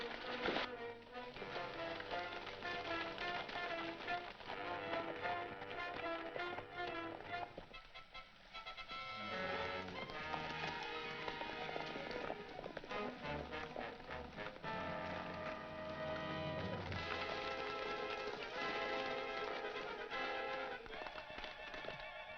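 Rapid hoofbeats of galloping pack horses drum beneath a busy, crackling mix of clatter and noise in a 1942 Western film, steady throughout at moderate loudness.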